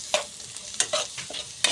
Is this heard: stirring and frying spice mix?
yes